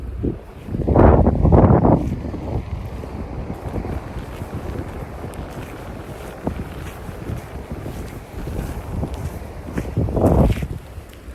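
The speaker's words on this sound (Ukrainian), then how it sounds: "сонячний день, але вітряно так, вітер" Steady wind rumbles and buffets outdoors on a sunny day in Greece, gusting louder near the start and again toward the end, with a faint watery wash beneath.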